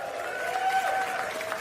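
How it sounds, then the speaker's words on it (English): Brief applause from a stand-up comedy audience, a short burst of scattered clapping and crowd noise at moderate distance. "My round of applause."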